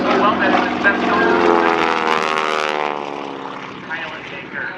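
A North American SNJ-6 Texan, powered by a 1,340 cubic inch nine-cylinder supercharged Pratt & Whitney radial engine, flies aerobatics at the 2023 Quad Cities Airshow. Its loud, throbbing harmonic drone swells, then slowly fades as the plane pulls away.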